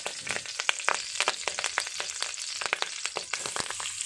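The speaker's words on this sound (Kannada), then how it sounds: "ಕರಿಬೇವು ಹಾಕೋತಾ ಇದ್ದೀನಿ." Curry leaves crackle and spit in hot oil in a pan, a dense stream of sharp pops and sizzling close by, with no talking.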